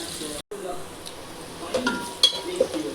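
Onions frying with a little salt in a pan until crisp and red, a steady soft sizzle with occasional stirring scrapes and clinks of a utensil against the pan, close by, after a brief silent break near the start.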